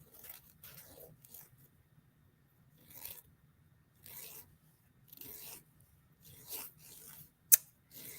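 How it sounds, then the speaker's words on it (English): A nail file rasps across a fingernail during a gel manicure in short, soft scratchy strokes, quiet and close, coming in separate bursts with pauses and one sharp click near the end. "I'm just going to kind of file that away and make it nice and smooth"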